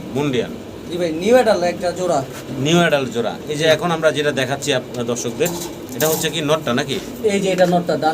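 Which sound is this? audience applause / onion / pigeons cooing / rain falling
pigeons cooing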